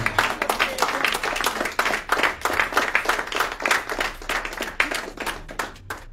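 Steady, dense clapping from a church congregation during a sermon, with rapid overlapping handclaps that continue for several seconds, fade briefly and then swell again, with voices faintly underneath.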